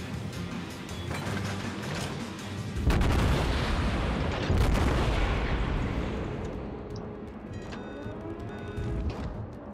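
Naval gunfire from a Baltimore cruiser in World of Warships booms heavily, with two big salvos landing near the three- and four-and-a-half-second marks over a steady roar of engine and sea that slowly fades.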